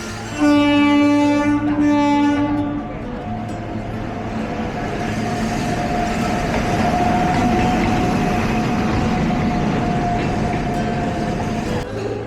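Bangalore Cantonment railway station rumbles with a passing or idling train, a loud horn blast sounding near the start, then a long steady mechanical drone.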